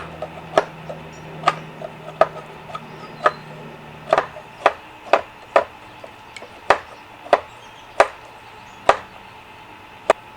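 Sharp wooden knocks from fitting and shaving a wooden Viking axe handle, the head slammed back onto it: about fourteen crisp, close taps spaced roughly half a second to a second apart, standing alone with no talk.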